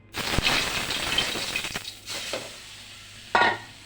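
A lentil batter for dhokar dalna is poured into hot oil in a wok, setting off a loud burst of sizzling that fades, followed by a few clinks and a final sharp sizzle.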